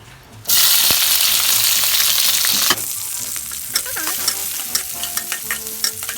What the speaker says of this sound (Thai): มันร้อนแล้ว ให้ใส่กระเทียมและพริกนะคะ